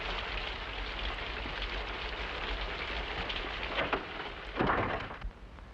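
Steady rain pours throughout, with a low rumble of thunder swelling near the end, fairly close and without voices.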